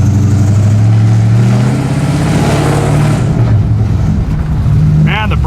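A Pontiac GTO with an automatic transmission drives off, its engine rumbling loud and close as it revs and pulls away, with a brief voice near the end.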